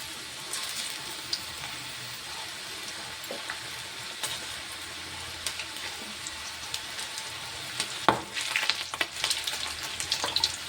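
Okra (bhindi) frying in a pan at home, a quiet, steady oil sizzle with soft crackles and occasional stirring scrapes, growing busier near the end, with no voices.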